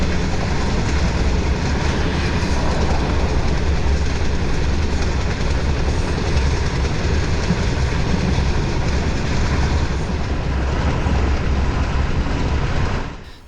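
An Egyptian sleeper train running from Cairo to Luxor rumbles steadily from inside the carriage, a loud continuous low roar with faint rhythmic rail clatter that holds for the whole stretch and drops off right at the end.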